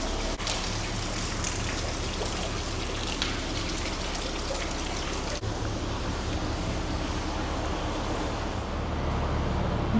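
Heavy rainwater gushes through a ventilation shaft on a narrowboat, a steady broadband rush and splatter that holds nearly constant for the whole stretch, with a brief sharp knock partway through and no voices.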